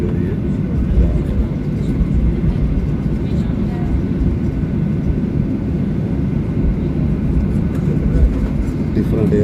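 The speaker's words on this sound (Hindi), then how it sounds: "टैक्सिंग करते हुए ऐसा रनवे की तरफ जो है" A Turkish Airlines jet taxiing toward the runway at Mitiga Airport in Tripoli, Libya, heard from inside as a loud, steady low engine rumble that holds evenly throughout.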